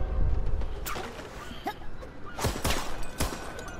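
Hand cannon gunfire in the Worms Rumble video game: several sharp, separate shots spaced irregularly over a few seconds, with a rumbling, busy game background and no talking.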